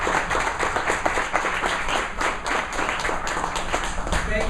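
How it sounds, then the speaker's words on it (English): Audience at the close of a leadership talk giving a round of applause, dense steady clapping from many hands throughout, moderately loud and sustained, with some voices mixed in. "Let's give Neil a round of applause."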